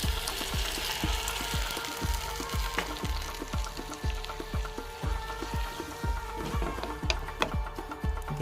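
Pieces of kanchi kai (citron) boil in water in a pot, giving a steady bubbling, popping simmer with rhythmic ticking, moderately close and without talk.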